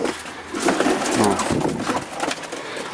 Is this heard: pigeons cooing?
yes